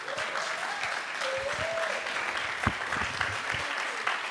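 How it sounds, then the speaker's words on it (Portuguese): Audience applause at a dance and politics gathering in Brazil, steady dense clapping throughout with a brief voice or whistle-like tone early on and a few sharper claps standing out. "Palmas, gente."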